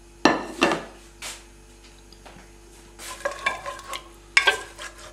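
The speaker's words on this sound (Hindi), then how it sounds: "ग्रीन चिली और रेड चिलीज डालते हैं और इसको मिक्स कर लेते हैं।" A spoon scrapes and stirs green and red chilies into Punjabi kadhai mutton in a pan. There are several separate close scraping strokes with faint sizzling between them, and no voices.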